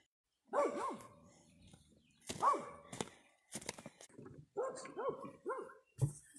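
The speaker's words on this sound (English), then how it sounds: "Who's barking at?" A dog barks repeatedly in short bursts, fairly close, with brief pauses between volleys and some whimpering tones.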